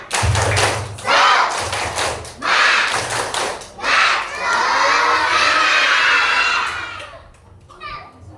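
Schoolchildren at an elementary school clap and shout together in a loud group chant, with bursts of rhythmic clapping and cheering voices that rise and fall in waves, trailing off at the end.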